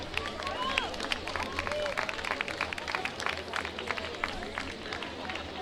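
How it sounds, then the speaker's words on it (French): Outdoors at a running race, a crowd applauds the winner with dense, steady clapping that carries on throughout under background chatter. "on applaudit très fort Olivier Frémy"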